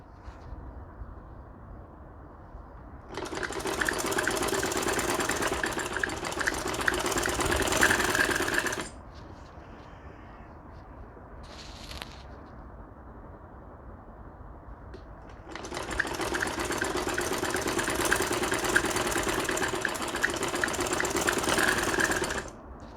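Sewing machine stitching dori piping onto a kameez, running in two long steady bursts of rapid mechanical stitching with a quiet pause and a brief whir between them.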